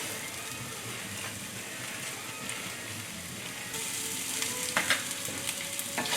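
Onion and Taiwanese sausage fry in a pan with a steady, close sizzle and hiss, joined midway by the scrape and clatter of a utensil stirring the pan.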